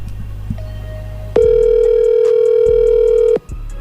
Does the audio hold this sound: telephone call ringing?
yes